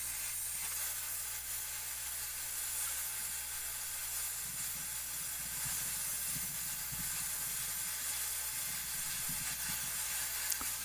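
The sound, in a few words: rosebud torch heating iron for bending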